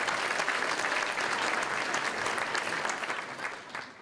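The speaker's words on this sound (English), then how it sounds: "Big round of applause." An audience at a cultural diversity awards ceremony claps in a dense round of applause that holds steady for a few seconds and then fades.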